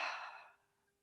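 A single soft exhale of breath during a posture exercise, starting strong and fading out over about half a second, close and alone.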